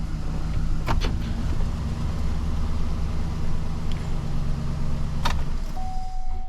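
A 2012 Chevy Silverado 1500 pickup idles inside a repair shop, its engine giving a steady low hum with a couple of brief sharp clicks and a faint whine near the end.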